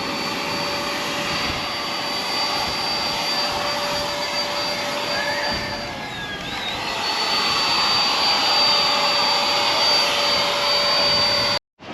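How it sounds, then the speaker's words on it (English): HouseLife paint sprayer spraying a thin, water-like waterproofing coat over a solar shed floor: a steady, loud motor whine with a constant high tone, dipping briefly midway before resuming and cutting off abruptly at the end. "that's the sprayer"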